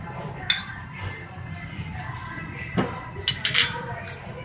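Diced roasted jalapeños spooned out of a container for guacamole: a few light clinks and scrapes of a spoon against the container, scattered over several seconds with a quiet kitchen background.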